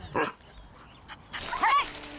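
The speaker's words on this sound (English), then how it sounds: "Noel met 48-kilogram Alaskan Malamute, Adam." A 48-kilogram Alaskan Malamute sled dog gives two short whimpering vocalizations close by, one brief cry near the start and a longer, louder whine a second later, with quiet room tone between.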